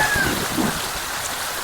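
Rain falling outdoors in the Kolli Hills, a steady broadband hiss of drops that stays even and fairly loud for the whole short stretch, with no voices over it.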